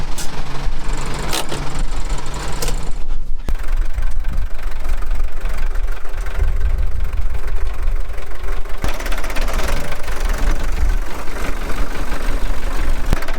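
A farm tractor engine idling loudly nearby with a steady low chugging rumble, broken by a couple of sharp clunks or shifts along the way.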